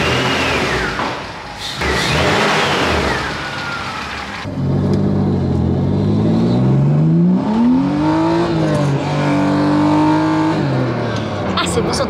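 A BMW E46 drives out onto the street, its engine revving up loudly with rising and falling pitch sweeps over steady road noise, while people talk in the car during the first seconds.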